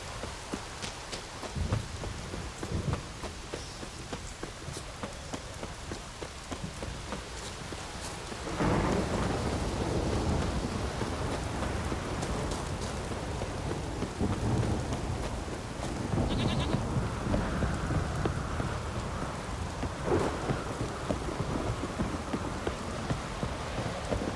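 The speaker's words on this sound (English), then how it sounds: "Raining fucking buckets" Heavy rain pours steadily with rolling thunder in The Witcher 3: Wild Hunt, a dense continuous wash that swells louder midway with deep rumbles, no talk over it.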